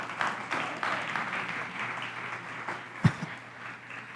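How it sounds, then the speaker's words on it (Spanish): Applause from a church congregation, a steady crowd clapping wash at moderate level with one sharp thump near the end. "Si vas a aplaudir, aplaude fuerte."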